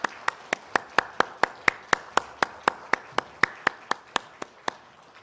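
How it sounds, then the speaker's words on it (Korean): A church congregation at a Sunday worship service claps in unison, a steady rhythmic series of about twenty sharp, evenly spaced claps, fairly faint and in a roomy space, with no talk over it. "하나님께 영광의 박수 올려드리겠습니다."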